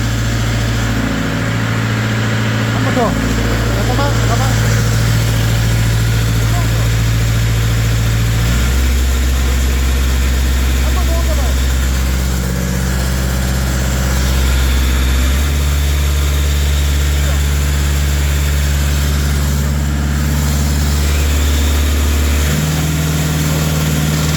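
Steady, fairly quiet idle of a 62 hp diesel engine driving a 400-bar Italian pump on a low-deck box truck, heard up close and continuous, with the engine note shifting pitch a few times.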